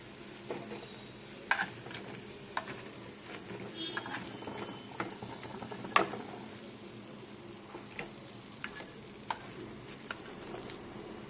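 Urad dal fritters fry in hot oil over low heat, a soft continuous sizzle with scattered faint clicks and scrapes from stirring, close but quiet, with no talking.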